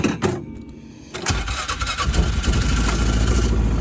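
A vehicle parked at a trailhead cranks briefly, stalls for a moment, then catches and roars to life, settling into a steady, rumbling idle close by.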